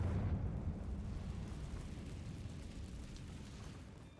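Confringo spell blast in the Hogwarts Legacy video game on PS5, a deep rumbling explosion that booms at the start and slowly rolls away with a long fading tail.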